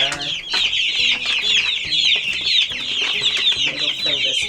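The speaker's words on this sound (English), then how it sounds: "let's take a quick look at the baby chicks" Baby chicks in a backyard pen chirp and peep continuously in a busy, overlapping chorus close by, with soft clucking and scuffling underneath and a brief voice at the end.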